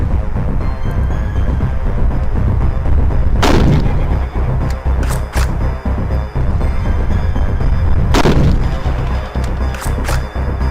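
In the video game Blood Mall, gunshots crack out over a loud, dense game soundscape: one sharp report, then a couple of quick ones, then another pair several seconds apart, all close and punchy.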